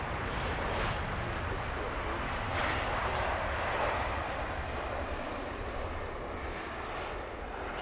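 Boeing 747 freighter at Heathrow Airport produces a steady, broad jet-engine roar, loud and sustained throughout without talking, swelling slightly midway and easing a little toward the end.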